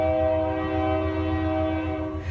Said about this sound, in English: That freaking train horn